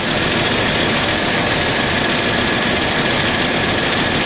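An AMC Eagle's 258 engine idles roughly with a vacuum leak, giving a steady, loud, unbroken drone with broad hiss and no voices.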